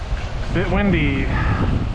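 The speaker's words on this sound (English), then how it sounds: "Bit windy." Gusty wind buffets the microphone with a low rumble during a ride on the LA River Trail while a person speaks briefly over it.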